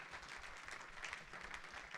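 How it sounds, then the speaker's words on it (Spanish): A church congregation claps together during a Spanish-language service, a steady, fairly faint wash of applause with no distinct voices. "Dele un fuerte aplauso al Rey de la Gloria conmigo una vez más"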